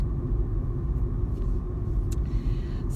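A car drives through a school zone at about 20 miles an hour, giving a steady low road rumble with faint tire and engine noise throughout.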